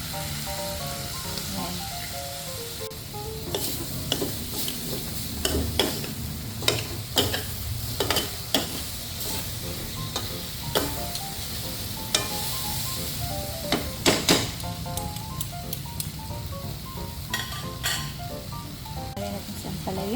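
Beef and bitter gourd stir-fry in a pan with a splash of soy sauce, a steady close sizzle broken by frequent sharp scrapes and clanks of a spatula against the pan, with faint talk underneath.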